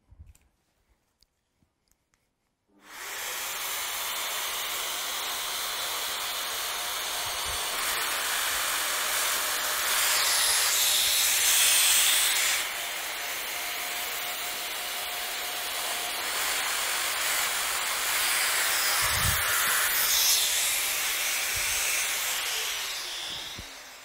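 Festool Domino joiner cutting mortises in panels with a dust extractor running, a loud continuous whirring hiss that starts abruptly after a few quiet clicks and holds steady, with brief surges as the tool plunges.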